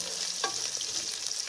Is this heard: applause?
no